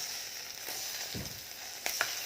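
Pork sizzles as it grills in a makeshift moo kratha setup on a steamer pot: a soft, steady frying hiss close by, with a couple of sharp little crackles near the end.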